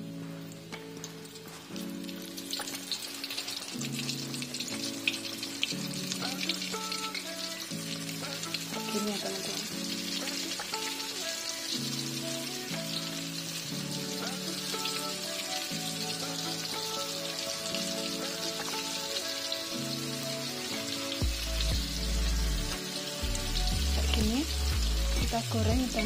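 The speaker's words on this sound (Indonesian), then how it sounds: "Kita goreng udangnya." Flour-battered shrimp frying in hot oil, a steady loud sizzle running throughout, with a voice speaking briefly and some stirring movement late on.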